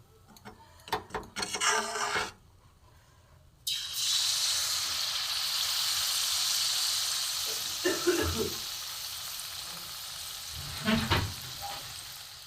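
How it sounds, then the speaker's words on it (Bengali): Shakkorli pitha made from rice flour frying on one side in hot oil in a pan, a steady bright sizzle running for most of the clip after a brief lull, with faint stirring clinks and a few short bursts of voice. "পিঠেগুলো একদিকেই হয় ভাজা"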